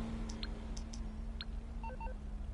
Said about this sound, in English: Hang on, I'll mark you on the fucking phone.